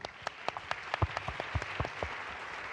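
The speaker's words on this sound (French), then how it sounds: "Merci d'applaudir Marie" A short burst of conference audience applause, scattered claps over a soft crowd wash, moderately quiet with a few sharper hand claps up close.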